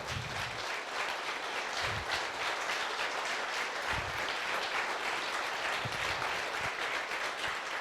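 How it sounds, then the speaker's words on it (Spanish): Audience at a talk on the therapeutic benefits of cannabis applauding steadily, a dense wash of many hands clapping close and loud, sustained without a break throughout. "a los cuales les pido un aplauso"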